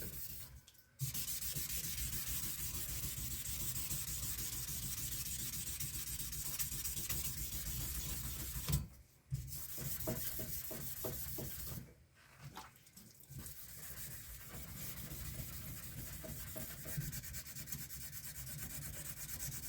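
Steady abrasive rubbing of a sanding block working over a firearm's surface, running continuously in long strokes with a few brief pauses, fairly close and alone with no talking.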